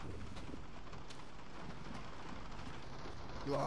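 Steady rain falls in Resident Evil 7, in the Daughters segment at the Baker house, a constant soft patter with faint distant rumbles, and a voice starts speaking near the end.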